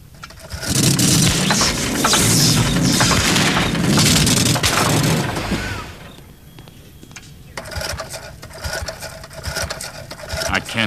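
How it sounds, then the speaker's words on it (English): Comedy stomach pump sound effect from an animated hospital scene: a loud mechanical clattering and whirring that runs steadily for several seconds, then drops to quieter irregular knocks and rattles. "Fire up the stomach pump."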